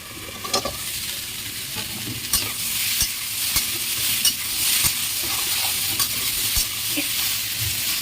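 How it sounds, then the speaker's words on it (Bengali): Cauliflower with tomatoes fries in a pan under a steady loud sizzle, while a utensil stirs and scrapes in repeated sharp knocks and scrapes close by, with no one speaking. "আবার একটু ঢেকে দেবো ঢেকে ঢেকে কষিয়ে নেবো দেখুন বন্ধুরা আর একবার নাড়িয়ে নেব"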